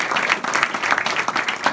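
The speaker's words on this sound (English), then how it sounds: "So I think we ought to give a round of applause for historical societies that save old depots." An audience at a book talk on railroads gives a short round of applause, a dense, steady wash of many hands clapping at close range without a break.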